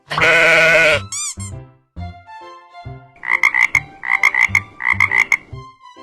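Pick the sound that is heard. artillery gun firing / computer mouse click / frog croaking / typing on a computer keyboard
frog croaking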